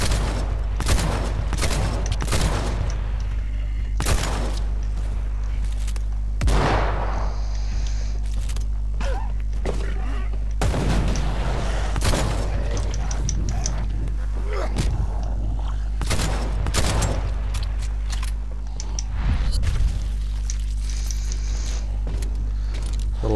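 Shotgun blasts from Dead Island 2 gameplay, a string of sharp, loud broadband bursts at irregular intervals over a steady low game hum, with a few mechanical clicks and rustles between shots.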